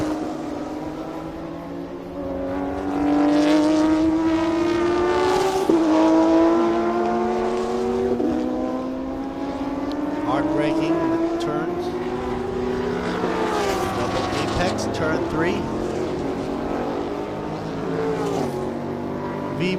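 Race cars, including Toyotas, on track during a TSS 2018 circuit race. Engines drone and rise steadily in pitch through upshifts over a continuous track din, with a commentator talking over it.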